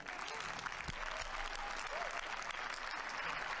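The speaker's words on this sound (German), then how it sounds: "es wird geklatscht" Applause in the German Bundestag, a steady wash of clapping from the chamber heard at a distance and fairly faint, continuous throughout.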